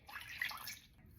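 Freshly squeezed orange juice pours from a container into a pan with sugar for a simple syrup, a soft splashing trickle lasting about a second before fading, heard alone with no talk.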